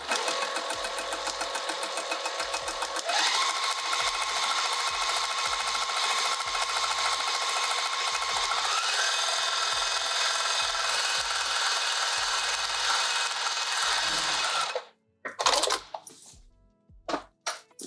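A sewing machine runs steadily while quilting a fabric pouch, a loud continuous whirring stitch drone with a brief pitch shift, then stopping near the end with a few short stop-start bursts.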